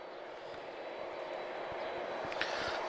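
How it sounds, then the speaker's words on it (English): An Airbus A330 airliner departs Lisbon Airport, heard as a steady, distant broadband roar that holds throughout with no voices. "I think we're going to get one last A330 departure as well"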